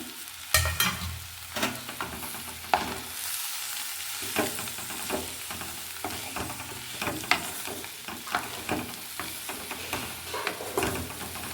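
Grated coconut is stirred into sizzling food in a pan, with soft continuous frying hiss under repeated close scraping and clanking strokes of a spatula against the pan.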